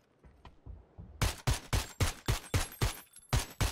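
Rapid gunfire in the video game PUBG, a run of about ten sharp, loud shots in quick rhythmic succession after a few quieter thumps.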